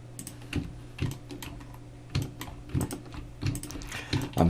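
Sparse, crisp computer keyboard keystrokes while modeling in Blender, single taps and short clusters of clicks spaced irregularly, close and fairly quiet with no talking.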